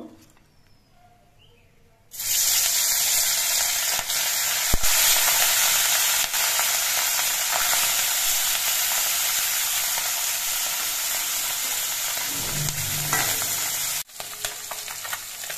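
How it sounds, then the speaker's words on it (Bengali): Puti fish are dropped into hot mustard oil and fry with a loud, steady, close crackling sizzle that keeps going for about twelve seconds before it cuts off abruptly, with no talking. "এবার এই তেলের মধ্যে আমি পুঁটি মাছগুলো দিয়ে ভেজে নেব।"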